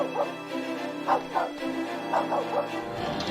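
A dog in the Simon the Sorcerer 3D video game barks and whimpers in a string of short yelps and whines, several bursts close together over a low, steady background hum.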